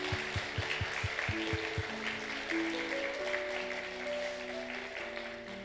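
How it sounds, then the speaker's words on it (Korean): Church congregation clapping in welcome for a newcomer during a Sunday service, a steady wash of applause under sustained organ or keyboard chords, with a few sharp claps at the start. "저 끝에 박수로 우리 환영해 주시기 바랍니다."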